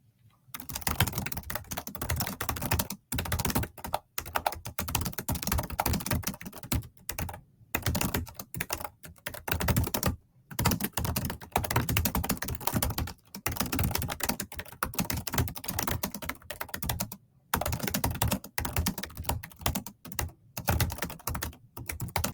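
Rapid, continuous typing on a gaming keyboard during online typing races, a dense close-up clatter of keystrokes with a few brief pauses, steady and loud throughout with no voices.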